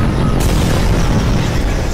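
A rocket launcher explosion in a Skibidi toilet video game bursts as a loud, dense boom that fills the whole moment and rumbles on without a pause.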